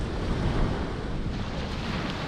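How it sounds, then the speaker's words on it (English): Strong wind buffeting a microphone on a beach during sea fishing, a steady loud roar of rumbling wind noise with no talking. "and it's really windy,"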